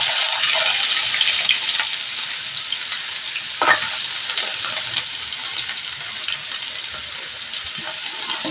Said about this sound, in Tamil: அந்த வெங்காயத்தை போட்டுடலாம்.